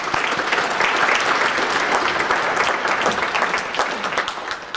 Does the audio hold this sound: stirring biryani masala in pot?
no